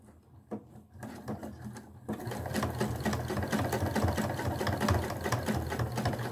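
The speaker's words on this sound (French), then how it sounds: "Je place mon pied au début de mon travail. J'enlève mon épingle pour ne pas casser mon aiguille et je démarre." A sewing machine stitches bias binding onto fabric. It starts after a short quiet pause, then runs in a close, steady, rapid mechanical chatter of needle strokes with no talking.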